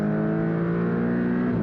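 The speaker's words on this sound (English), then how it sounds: "I actually do like the sound of this engine when you're really pushing it through the revs" A 2024 Porsche 718 Cayman Style Edition engine revs hard under acceleration, a loud, steady rising tone sustained close by without speech.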